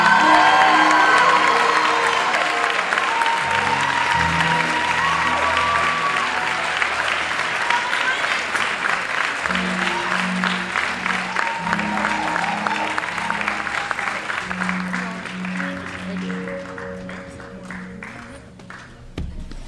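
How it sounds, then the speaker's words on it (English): A large audience at a school Black History Month celebration applauds to welcome a speaker, dense sustained clapping mixed with cheers and whoops that slowly thins out over about twenty seconds, with voices calling out through it. "Please give a round of applause as we welcome Reverend Teddy R."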